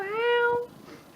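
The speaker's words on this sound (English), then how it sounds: "that was really annoying meow" A pet cat gives one clear, rising-then-falling meow up close, followed by a quiet room.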